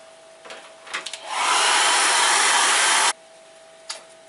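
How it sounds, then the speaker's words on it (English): A hair dryer blows steadily for about two seconds over fresh acrylic paint, a loud, even whooshing roar that starts and cuts off abruptly, with faint taps before and after. "we'll dry that off with the airdryer"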